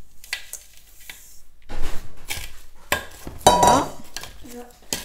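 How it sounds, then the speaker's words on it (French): Spoon clinking and scraping against a bowl while stirring chopped rhubarb with sugar, a string of uneven close knocks and rattles at varying strength, with brief bits of speech between them. "Donc je vais mettre le sucre, je vais mélanger tout ça."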